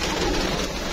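Young pigeons coo softly in a pen, giving low, throaty murmurs through steady background noise, with no talk.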